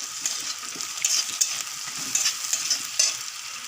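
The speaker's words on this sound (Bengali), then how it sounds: "আদা থেতো করে রাখা আদাটা দিয়ে দিচ্ছি, দিয়ে 2 মিনিট আরও ভালোভাবে ভেজে নিচ্ছি" Crushed ginger sizzling in oil in a pan for chicken soup, a bright steady fry with clicks and scrapes of stirring, close and alone.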